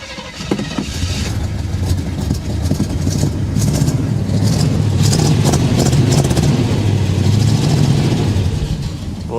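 An old starter works on a 1967 AMC barn-find car that has sat unused for 14 years, producing a loud, close, continuous mechanical whirring and churning with a low rumble throughout.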